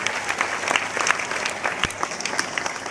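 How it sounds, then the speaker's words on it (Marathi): An audience at an honour ceremony for a retired soldier claps steadily and moderately loud for a few seconds, a continuous patter of many hands. "पहिल्यांदा स्वतःसाठी जोरदार टाळ्या"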